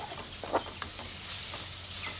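Vegetables frying in a pan for a children's lunch-box recipe, a steady faint sizzle with occasional soft stirring scrapes and taps, no talking.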